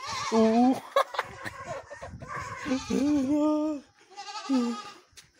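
A goat bleats several times nearby in loud, wavering cries with short pauses between them.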